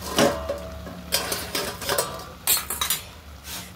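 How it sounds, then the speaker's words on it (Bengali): Metal clatters against a pot of fenugreek greens as it is covered with a lid, several close, bright clinks and scrapes spread over a few seconds, with a faint low hum underneath. "এবার একটু ঢেকে দিই এবং সিদ্ধ হবে। এই যে দেখুন ঢেকে দিলাম।"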